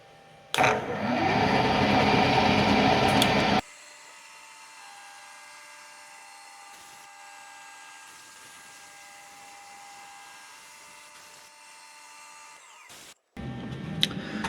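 Lathe or mill cutting a metal axle adapter for a Spitfire, a loud steady whining cut for about three seconds, then a quieter even machine hum with faint tonal lines, and another loud burst of cutting at the very end.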